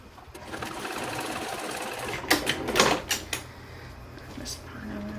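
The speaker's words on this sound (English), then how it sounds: "I'm just going to sew across here to attach this part" A sewing machine stitches across a concealed-carry purse, a brief burst of quick mechanical stitching in the middle amid quiet handling and low background hum.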